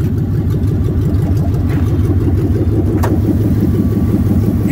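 A Ford F150 Stepside pickup's 4.6-litre V8 runs steadily and loudly up close, a continuous low rumble with a faint brief tick partway through and no talking.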